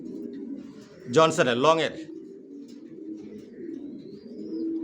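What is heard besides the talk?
racer pigeons cooing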